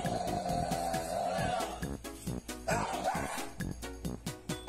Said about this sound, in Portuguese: Meu cachorro dando um surto depois do café da manhã.